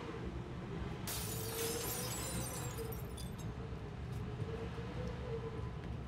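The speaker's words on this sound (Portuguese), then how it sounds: "Quebrando um vidro ali." Glass shattering in the Hitman video game, a sudden bright crash of breaking glass with tinkling shards, heard over a constant low rumbling game ambience.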